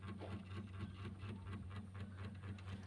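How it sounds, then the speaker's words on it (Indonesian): A refrigerator defrost timer on a two-door fridge in standby runs with a steady low mechanical hum and a faint regular ticking pulse running through it, close up and continuous. "Nah itu bunyi timer. Ini mesin dalam kondisi standby."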